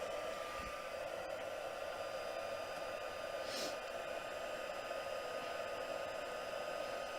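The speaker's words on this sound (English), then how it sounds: "we need a heat gun warming up jingle as well" A heat gun blows with a steady, loud hiss and whine, an unbroken airflow roar lasting the whole stretch with no talking.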